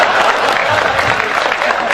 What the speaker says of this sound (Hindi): संपत जी आप भी ताली बजाओ